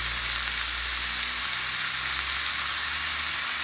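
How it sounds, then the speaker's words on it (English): Ground meat browning in a pan for pasta sauce, a loud continuous sizzle and hiss that holds steady throughout with no voices. "I'm just going to brown the meat."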